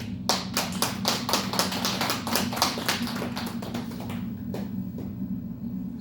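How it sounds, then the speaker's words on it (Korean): A small church congregation during a Sunday service claps for a member, a rhythmic run of sharp hand claps that thins out and fades after about four seconds over a low steady hum. "우리 박수 한번 쳐드립시다"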